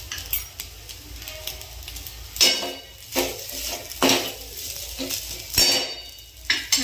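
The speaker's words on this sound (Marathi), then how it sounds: "आणि याला छान असं हलवून घ्यायचं।" A spoon scrapes and clanks against a pan while spicy fried rice is stirred, loud bursts of metallic clatter every second or so over a soft background sizzle, with no talking.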